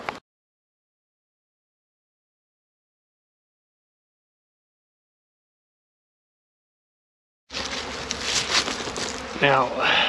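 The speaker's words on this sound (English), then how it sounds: "Now we see there are lots of bees coming in and out now." Honey bees fly in and out of a New Zealand beehive entrance fitted with a pollen collector. Silence fills most of the stretch, then a dense, close buzzing of many bees rises abruptly over the last few seconds.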